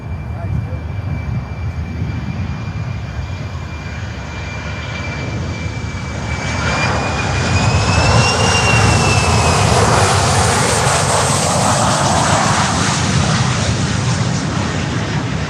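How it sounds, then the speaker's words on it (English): A Boeing 737-400 at Miami airport, usually flown for Eastern Air Express, passes with a loud jet engine roar that swells and stays heavy, with a whining tone rising and falling and a voice speaking over it. "And now we have that 737-400, what is usually Eastern Air Express without any flight information."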